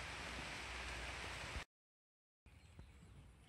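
Rain falls outdoors at a fishing spot, a steady broadband hiss of drops that cuts out briefly before resuming a little softer.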